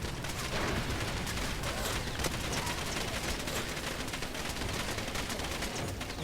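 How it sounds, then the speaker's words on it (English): An ammunition stockpile exploding in the shooter game Far Cry 2, heard as a dense, continuous crackle of popping rounds and bangs at steady loudness for several seconds. "ammo stockpiles apparently will explode, and that's cool"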